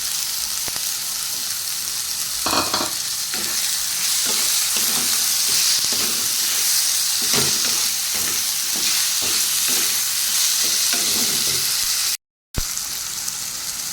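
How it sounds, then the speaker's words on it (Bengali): Tomato stir-frying in a pan over ginger-garlic paste and onion, with a constant close sizzle and repeated scraping strokes of a spatula, with a short gap near the end. "এবার টমেটোটা দিয়ে দিলাম"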